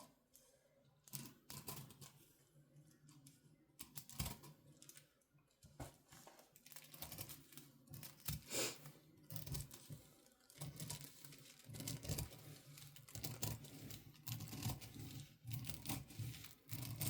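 Scissors cutting out a paper sleeve sewing pattern at size 14, with steady crisp snips and rustling, crinkling paper close by and no talking.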